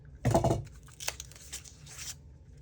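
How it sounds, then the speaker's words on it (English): Close, crisp crinkling and a quick cut as scissors slice open the plastic wrapping on an oracle card deck, followed by a few softer rustles. "I'm gonna cheat and use my scissors"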